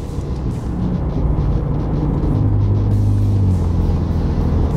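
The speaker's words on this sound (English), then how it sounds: "We'll pop it in a drive, see what it sounds like at cruising." Ford F-150 Raptor with a Borla 3-inch stainless Atak muffler and X-pipe exhaust cruising at 60 mph in 10th gear, a steady low droning rumble with a slight rise in engine tone partway through, heard from inside the cab.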